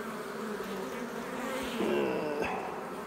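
Bees crawl over a hive frame where a new bee is hatching, giving a steady close buzzing drone that swells slightly partway through, with no talk.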